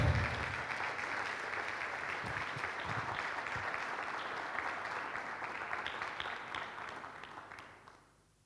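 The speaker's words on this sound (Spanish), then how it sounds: "Dale un aplauso al Señor" Church congregation applauding in a dense, sustained wash of clapping that holds steady for several seconds, then fades out toward the end.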